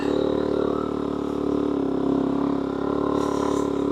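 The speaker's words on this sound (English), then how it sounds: "I don't know if you can hear the revs in the background, but they're just staying pretty constant." Single-cylinder Suzuki DRZ400 dirt bike engine holding steady, constant revs while riding through a sandy wheel rut, a loud continuous drone filling the whole stretch without any speech.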